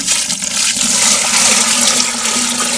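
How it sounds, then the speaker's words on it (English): Water poured into a bucket holding a cup of pumpkin powder, a steady loud rushing gush running continuously for the whole stretch with no talk. "I'm going to dump water in here, and here we go."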